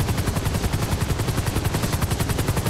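Steady, loud whump of a Huey-style helicopter in the game GTA V, heard from close by, its rotor chop pulsing rapidly and evenly throughout under a constant engine roar, with no talking.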